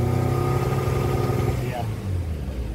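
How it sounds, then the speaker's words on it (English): A Nissan Altima engine, suspected of a clogged catalytic converter, revs up and settles back with a steady droning hum, close by and loud. "So let's just rev it and see."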